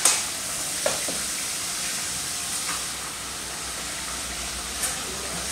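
A blended mixture is stirred into a sauce for a Senegalese-style fonio gras, giving a steady broadband hiss with a few soft clicks of the spoon, close and continuous.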